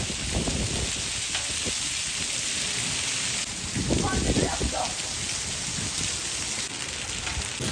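Heavy rain mixed with hail pours steadily onto a house floor and roof, a dense continuous hiss with scattered sharper impacts and a few low rumbles, no voices heard.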